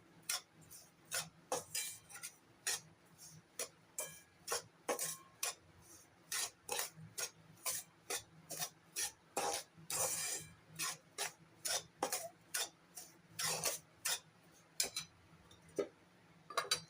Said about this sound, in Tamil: இப்போ இந்த கோதுமை மாவையும் சர்க்கரையும் நல்லா வதக்கி வறுத்துட்டே இருக்கலாம்